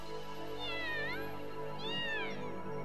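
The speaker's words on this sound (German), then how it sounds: "Nein, wir kriegen nur ein Miau, ein japanisches." Two short, high meows from a cat monster in the video game Yu-Gi-Oh! The Duelists of the Roses, each a rising-falling cry, set against a constant game music bed, no speech.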